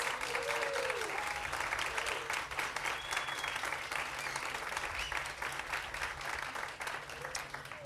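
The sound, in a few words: audience applause for students at a groundbreaking ceremony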